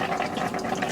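Water drains steadily from a shower faucet as the plumbing is emptied to prevent freezing, a continuous, close rushing flow with no pauses or talk.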